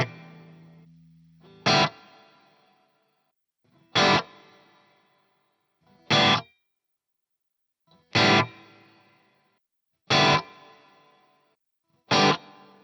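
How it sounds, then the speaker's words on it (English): Electric guitar played through a Boss IR200 amp on its hall reverb setting: a held chord fades, followed by five sharp, evenly spaced strummed stabs, each decaying into a reverb tail. "Right now I'm on the hall setting."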